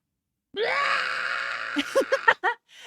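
A voice imitates the Mugatu creature growl from Star Trek, a sustained strained scream-like roar that breaks into several short grunting bursts before trailing off.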